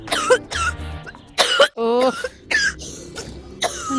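A person with a dust allergy coughs several times in short, harsh bursts with throat clearing, mixed with voices talking nearby.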